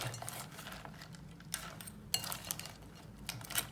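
A spoon stirs crab curry with masala in a cooking pot, giving soft repeated scrapes and light metallic clinks. Two or three sharper taps stand out, all quiet and close with no talking.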